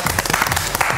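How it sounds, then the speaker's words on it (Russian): Audience applause at a Russian game-show style competition, loud sustained clapping from a crowd filling the whole short moment without speech. "эти аплодисменты вам"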